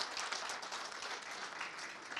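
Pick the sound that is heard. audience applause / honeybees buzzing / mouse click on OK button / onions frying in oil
audience applause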